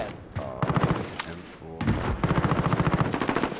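Gunfire in Call of Duty Modern Warfare, rapid bursts of repeated shots in quick rhythm with a couple of heavier blasts, loud and close in a busy match.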